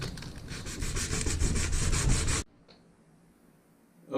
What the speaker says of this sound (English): I went ahead and just used the 220 grit and scuffed it up a decent amount